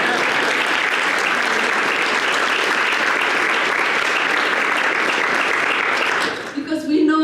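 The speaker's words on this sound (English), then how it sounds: "So you can clap for yourself." Convention audience applauding, a loud, dense wash of clapping from a big crowd that runs steadily and then breaks off as a voice starts speaking over a PA.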